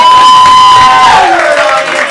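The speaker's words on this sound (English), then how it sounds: "Let's clap for them as they come up to the stage" An improv comedy audience at a St. Pete show cheers loudly and whoops for two performers heading to the stage, a dense, sustained crowd roar with shouted voices rising above it.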